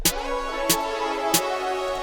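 Three crisp snare hits in a jerk beat pattern land at quick, even spacing over a sustained synth chord, loud and upfront, with no talking.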